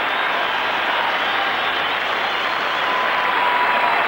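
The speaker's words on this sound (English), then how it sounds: "And roars of approval for the 2 strikers who've delivered the 3 goals" A football crowd at an Ireland World Cup qualifier roars and applauds steadily as two substituted strikers leave the pitch, a loud, dense wash of clapping and cheering with no clear voices.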